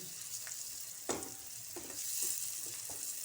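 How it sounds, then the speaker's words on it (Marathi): Powdered spices frying in oil for a crab masala, a steady hissing sizzle with several sharp scrapes and clinks of a spoon stirring the pan, fairly close. "तेलात पावडर मसाले टाकले तर कलर पण भाजीला छान आहे"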